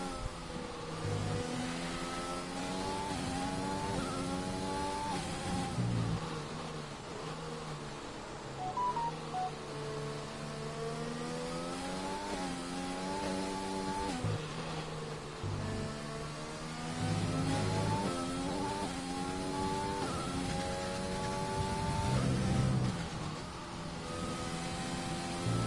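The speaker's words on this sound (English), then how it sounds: "as we go on board with the first car out into his fast lap" Race car engine on a fast lap in a sim racing game's Belgium round, revving steadily with rising and falling pitch sweeps through gear changes, loud and continuous for the whole stretch.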